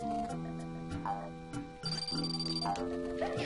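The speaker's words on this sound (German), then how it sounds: "Ich weiß auch nicht, warum mein Handy hier die ganze Zeit Geräusche macht" A mobile phone sounds repeated electronic ringtone tones in a steady pattern that keeps going, with a brief pause midway.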